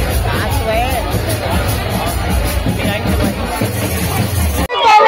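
Dense crowd hubbub at a Jawara immersion festival beside a pond in Katro, Durg, a continuous loud babble of many voices close around, cutting off abruptly near the end.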